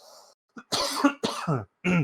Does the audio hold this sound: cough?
yes